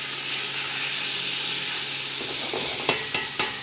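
Lamb trim sears in a hot pan with a steady, close sizzle and hiss, and a few brief clinks or stirs come near the end. No voice is heard.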